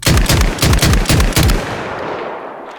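R12 semi-automatic shotgun fired in DayZ: six loud, rapid booming shots in an even rhythm over about a second and a half, then a long fading echo tail with no speech.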